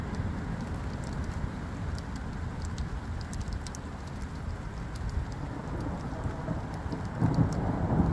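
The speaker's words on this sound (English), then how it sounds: "and the thunder rolls, and the lightning strikes." A thunderstorm with steady heavy rain pattering on surfaces and a low thunder roll that swells near the end, continuous and fairly loud throughout, no voices.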